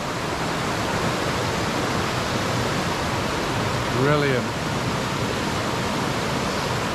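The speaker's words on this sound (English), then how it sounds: "got the waterfall all to myself" Pala-U Waterfall in Thailand pours in a constant, even roar that fills the scene, with one short spoken word cutting through it.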